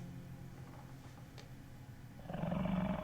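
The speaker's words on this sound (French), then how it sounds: "Pourquoi j'ai entendu un loup" A wolf-like roar or growl in the survival game 60 Seconds, a low rumbling cry that swells louder in the last half-second over steady background game noise.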